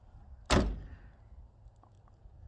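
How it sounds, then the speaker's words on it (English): A 1970s American muscle car door slams shut once with a loud, solid thunk, followed by a short low rumble and near silence. "Door locks work, and they close really good."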